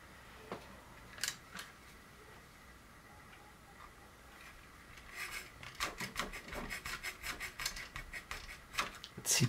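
Small plastic screws being tightened into a 1:200 Graf Zeppelin model kit, faint scattered clicks and rasping scrapes that grow into a quick run of ticking turns toward the end.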